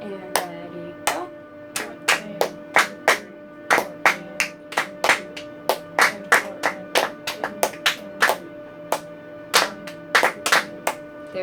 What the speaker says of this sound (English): one last time clapping